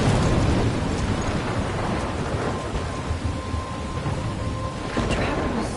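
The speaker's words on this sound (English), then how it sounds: "I'm trapped in a storm?" Storm ambience in the video game Life is Strange: steady, loud rain hiss with rolling thunder rumbles, swelling near the start and again toward the end, continuous throughout.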